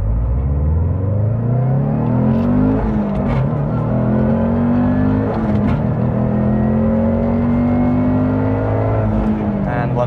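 A Subaru STI with a billet VF48 turbo and external wastegate accelerates hard from near idle during a timed run. The engine note climbs steadily through the gears with brief dips at the shifts, loud and continuous from the cabin.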